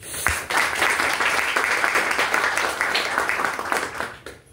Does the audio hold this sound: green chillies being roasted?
no